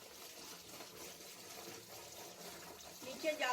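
Water runs and splashes steadily while ash gourd peel is washed over a mesh strainer, a continuous close wash with a few louder splashes near the end.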